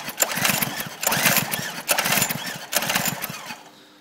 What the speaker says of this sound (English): give it a few sharp turns with the start cord and see what happens.